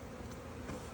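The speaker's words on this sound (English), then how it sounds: "How many bees did you say is on a frame, Jason?" A dense swarm of honey bees hums continuously during a hive split, a close, steady buzz with slight swells and no pauses.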